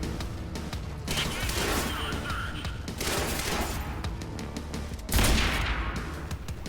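Rapid bursts of gunfire in Quantum Break crackle almost nonstop, loud and close, with dense overlapping shots and a heavier blast near the five-second mark, and no talk over the firing.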